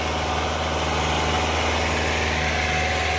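Tractor engine running steadily while ploughing a field, a continuous droning rumble with even vibration throughout and no voices.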